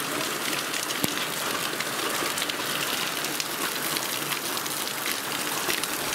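Steady rain falls continuously outside a house under construction, a dense, even hiss of drops on surfaces with no voices.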